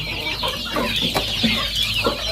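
Farm chickens clucking close by in quick, uneven bursts over a low background hum, with no talking.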